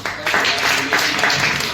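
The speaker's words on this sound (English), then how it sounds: "Arthur, ladies and gentlemen, round of applause," A comedy-show audience breaks into a brief, dense round of applause for a comedian, clapping mixed with a voice over it.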